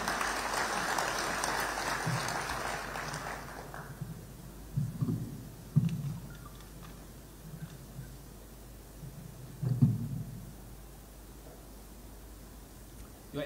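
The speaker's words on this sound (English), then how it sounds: "We can welcome him with a hand clap." An audience at Kenya Innovation Week 2023 claps to welcome the CEO of the Kenya National Innovation Agency to the stage, a dense burst of applause for about four seconds that fades into a quiet room with a few scattered thumps.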